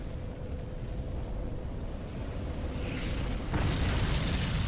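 A fire explosion from the Flame Fan spell in Dark Souls 3 sets off a broad rumbling roar that builds and then bursts louder near the end, with no talking.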